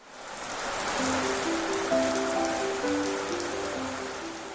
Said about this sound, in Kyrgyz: Жамгырдын жаралышы.